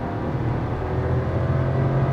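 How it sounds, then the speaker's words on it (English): Inside the cabin of a Skoda Slavia with the 1.0L engine and automatic gearbox, a steady, slightly granular engine hum drones on at an even pitch, with no talking over it. "इतना engine noise आपको cabin में सुनाई देगा"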